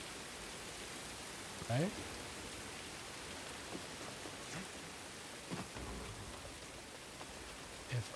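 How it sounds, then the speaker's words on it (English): Rain in the video game Jedi: Fallen Order, a steady soft hiss of falling water with faint rumbles, low in level beneath a man's brief spoken word. "Now there's rain coming everywhere."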